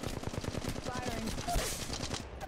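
Fast, sustained automatic gunfire in Apex Legends Mobile, a dense rattling stream of shots under a constant game mix, with brief voice lines from the game heard over it.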